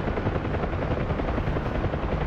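A helicopter's rotor noise in the video game Helo Ops: Assault on Dubai, a loud, steady, dense chopping roar that fills the whole clip without letup.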